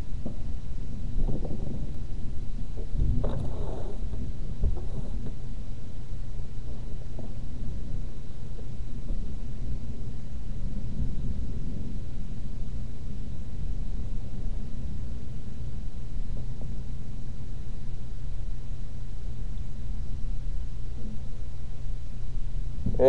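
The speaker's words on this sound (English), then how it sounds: "What we call an Oklahoma rainstorm." Oklahoma thunderstorm with steady low rumbling rain and wind over a long stretch, a brief louder burst of thunder early on, continuous and fairly loud with no voices.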